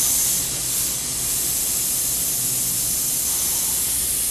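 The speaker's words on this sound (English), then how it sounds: "now we're going to bleed down the remaining gas that's left in this line" Gas bleeds from a Wilcox cutting torch charging line in a loud, steady hiss that continues without pause for about four seconds, with no voices.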